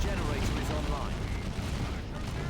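Tactical marines firing in Dawn of War 2: Retribution, a dense, continuous roar of game gunfire and battle noise, loud throughout with no pauses, and a faint voice underneath.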